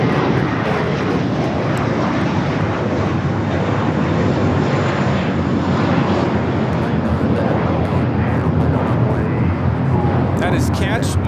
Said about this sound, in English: taking off to JFK, JetBlue 924. It's an A321.